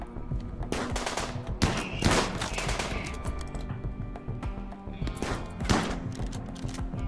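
Rapid bursts of gunfire in RimWorld, with sharp repeated shots and dense volleys crackling over a steady game soundscape, fairly loud throughout with no talk.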